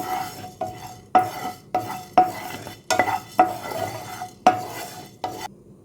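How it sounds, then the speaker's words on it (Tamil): Coriander seeds (dhaniya) dry-roasted in a pan, a metal spatula scraping and striking the pan in a loose series of crisp clanks with rattling seeds between, close and clear, ending abruptly in quiet, no talking. "இப்போ அடுத்தது தனியா வறுத்துக்கலாம்."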